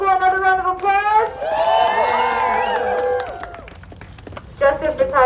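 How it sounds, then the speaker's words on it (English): A crowd at a march for Palestine in Washington DC cheers and applauds in a swelling burst of overlapping voices. A single loud voice shouts before and after the cheering. "Let's give Claudia Jones School another round of applause."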